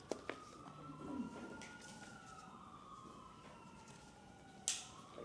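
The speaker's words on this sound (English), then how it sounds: "Police siren." A police siren wails in the distance outside a city council meeting, its tone sweeping up and down, faint beneath low traffic rumble, with a couple of sharp knocks nearby.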